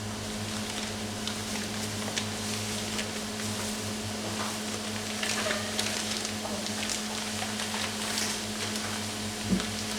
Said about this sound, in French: Hop, donc les oignons frémissent.